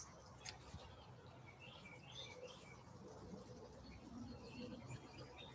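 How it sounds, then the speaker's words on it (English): Birds chirp and sing intermittently in a backyard with a fish pond, with faint calls scattered over a steady outdoor background hiss. "You'll hear birds singing."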